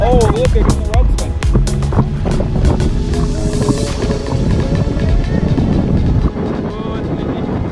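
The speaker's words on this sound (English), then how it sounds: "It is ridiculous windy." Strong wind on a lake buffets the microphone in heavy, continuous rumbling gusts, while people talk and call out over it near the water.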